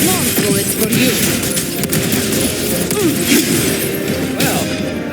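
Dense, rapid gunfire rattles through a boss fight in the Wuthering Waves video game, layered with crashing impacts and swooshing effects in a loud, continuous barrage.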